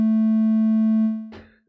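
A 440 Hz sine wave from a VCV Rack software synthesizer plays as a pure, steady, loud tone. It fades away after about a second and is cut off by a brief clicking handling noise.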